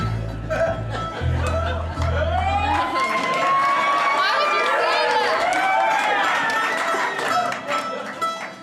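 At an evening concert, a brief spoken line gives way to a loud crowd cheering, whooping and laughing for a break dance routine, the voices rising and holding strong before easing off at the end.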